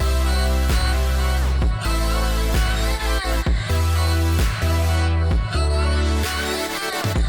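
Loud electronic dance track with pumping kick drums, deep bass and tight chords, now topped by an abstract lead synth line weaving through the steady rhythmic groove.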